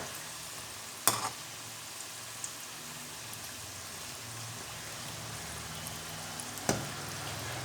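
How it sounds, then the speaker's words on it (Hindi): Toffee samosas fry in hot oil with a constant soft sizzle, broken by two sharp metallic clicks as they are turned, heard close and alone. "इसी तरह ही हम दूसरी साइड को भी फ्राई करेंगे।"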